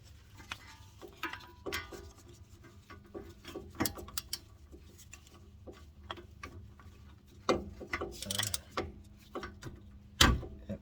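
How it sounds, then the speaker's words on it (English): Ratchet fitted with a 21 mm socket working a brake caliper bolt on a Dodge Charger SXT, with scattered metallic ticks and clicks and a few sharper clanks among quiet background noise. "21 millimeter socket to remove this guy"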